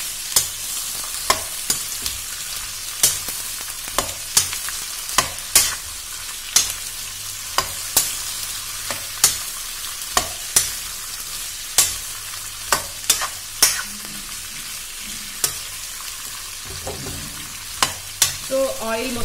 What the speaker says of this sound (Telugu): ఇందులో వేసుకోవాలి ఒక్కసారి నూనె ఈ ముక్కలకి అంతా పట్టేలాగా కలుపుకోవాలి